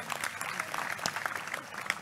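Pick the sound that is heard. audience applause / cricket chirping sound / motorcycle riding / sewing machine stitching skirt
audience applause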